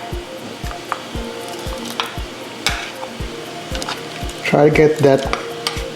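Shrimp cooking in boiling stock for pancit palabok: close, steady bubbling and sizzling with stirring, then a burst of utensil clatter near the end, over a faint regular low thump, with a brief spoken line.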